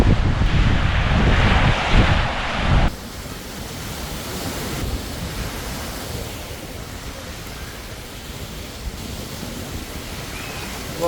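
South China Sea surf on a Phu Quoc beach, a broad continuous wash of waves with heavy wind rush at first, then a softer steady hiss of water.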